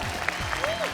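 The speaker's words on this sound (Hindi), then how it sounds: "जोरदार तालियां हो जाए धर्मेश सर के लिए।" Studio audience clapping on a televised Indian dance competition show, a brief, even burst of applause with a rising whistle or cheer riding over it.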